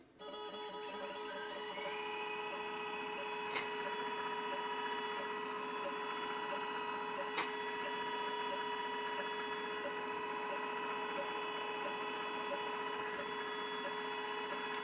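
A CNC guitar pickup winder spins a bobbin at 900 RPM, giving a steady tonal motor whine with a faint even hum that starts at once and holds throughout, with a couple of light ticks.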